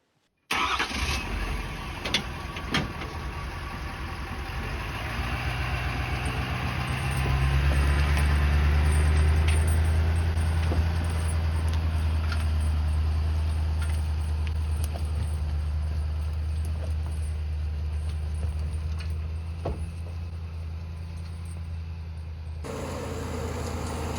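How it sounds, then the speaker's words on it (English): A vehicle fitted with tire chains climbs a muddy hill after a storm, its engine droning steadily and swelling louder partway through as it labors uphill, with faint clinks and rattles over the continuous rumble. "let's see if the tire chains will be enough to get me up the hill"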